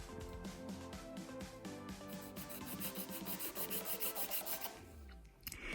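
A nail file rasping back and forth across a gel nail in quick, even strokes, close and fairly quiet, the rubbing speeding up toward the end before stopping.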